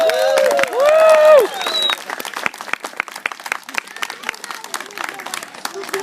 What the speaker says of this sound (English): a round of applause for my volunteer